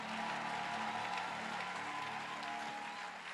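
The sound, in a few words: congregation applauding and acclaiming the Lord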